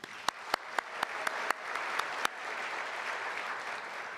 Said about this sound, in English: So if we can give them all a round of applause